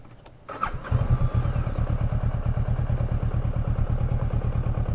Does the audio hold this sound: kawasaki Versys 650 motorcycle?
yes